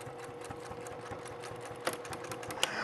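A sewing machine stitches a cork fabric wallet, running in a steady close-up whir of rapid needle strokes with a couple of louder clicks near the end.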